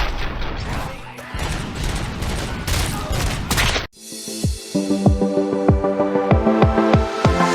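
Gunfire in the video game RoboCop: Rogue City: a dense, loud burst of rapid shots and crashing impacts, a brief cut, then a rhythmic series of sharp reports over a steady mechanical tone.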